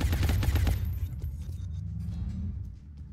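A gunner fires in the turn-based tactical game Long War: a loud, dense volley of rapid shots lasting under a second, then a lower rumbling tail that slowly fades out.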